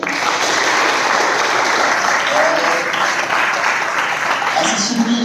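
Loud, sustained applause from a crowd celebrating students selected in RRB officer and assistant bank exam results, a dense wash of clapping filling the whole stretch with faint voices mixed in.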